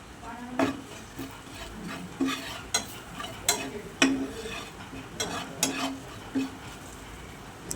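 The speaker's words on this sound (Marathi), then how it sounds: "आता यामध्ये पाव चमचा हळद आणि आवडीनुसार मसाला घालून हे सगळं मिश्रण छान परतवून" Turmeric and masala mixture stirred and sautéed in a pan for spicy potato bites, with a spoon scraping in repeated distinct strokes over a soft sizzle, close and alone.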